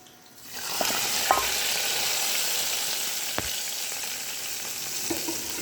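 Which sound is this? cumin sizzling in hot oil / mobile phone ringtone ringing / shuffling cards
cumin sizzling in hot oil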